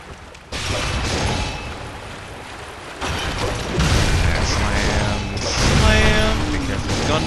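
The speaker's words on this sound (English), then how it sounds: "Gunfire from above." Gunfire crackles from above in the video game Bloodborne, a run of rattling shots and mechanical clatter with heavy thuds, fairly loud and layered over game ambience.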